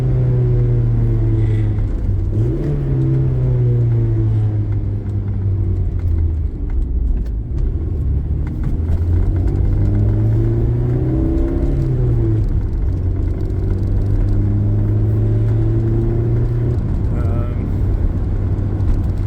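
A 1980 Porsche 924's engine drones steadily from inside the cabin on back roads, its pitch rising and falling with gear changes, with road rumble throughout.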